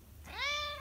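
A house cat gives a single drawn-out meow, clear and close, rising then slowly falling over under a second in a quiet room.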